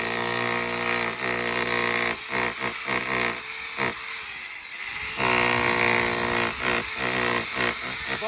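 Jackhammer drilling in loud, sustained bursts with brief pauses, the pneumatic hammering dense and close, one burst cutting out and restarting partway through.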